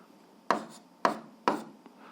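A pen writing on paper while working an algebra exercise: three short, scratchy strokes at roughly even intervals, quiet and close.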